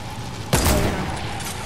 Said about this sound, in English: You getting shot at, Dean?